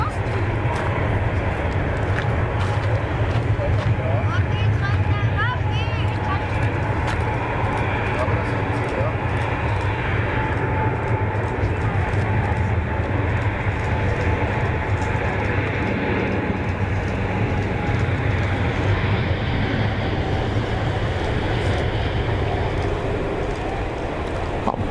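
An Etihad airliner begins its takeoff roll at Zurich Kloten Airport, a broad, steady rumble and roar heard from a distance across the field, with a person talking over it.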